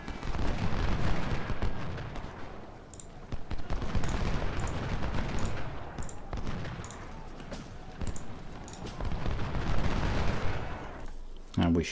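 Troops in a strategy video game trade gunfire, with irregular volleys, rattling bursts and booming blasts swelling and fading in waves, while people talk over the battle.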